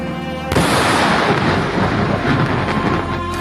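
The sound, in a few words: airstrike explosions in Lebanon, recorded video clip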